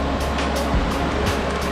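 Steady broadband rush of water at Niluksoan Falls in Sal-ing, Balilihan, Bohol, a continuous roar with no breaks that fills the scene and has a few low rumbles underneath.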